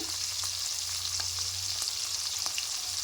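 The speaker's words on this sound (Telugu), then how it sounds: "పచ్చిమిర్చి అవి కొంచెం ఫ్రై అయ్యే కాగానే ఆనియన్ వేసుకోవాలండి ఉల్లిగడ్డ" Green chillies sizzle in hot oil in a pan, with onion about to be added, giving a steady close frying hiss with a few faint stirring ticks and no talk.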